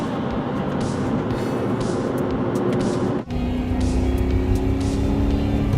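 A 1985 Lamborghini Jalpa's engine roars at high revs from inside the cabin, a loud steady drone that drops briefly for a gear change and then resumes with a smoother, lower hum.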